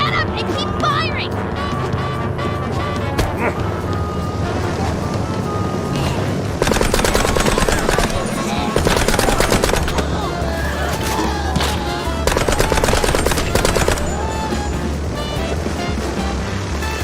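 Gunfire in the video game Mouse P.I. for Hire: loud bursts of rapid shots hit in three waves over a dense musical score, each lasting a second or two, with steady action noise between them.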